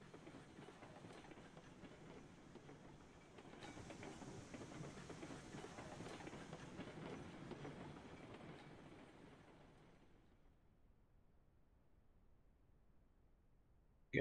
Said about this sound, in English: That is moving large trains